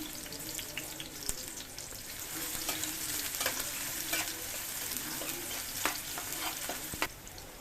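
Onion and garlic fry in soybean oil in a pan, a steady soft sizzle broken by repeated scraping stir strokes at close range, with no voices.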